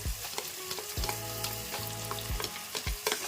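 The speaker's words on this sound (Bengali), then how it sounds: "তো এর মধ্যে রসুন দিয়ে দিলাম।" Garlic frying in a pan, a soft continuous sizzle broken by rhythmic scraping stirs and a low humming tone, fairly quiet with no talk.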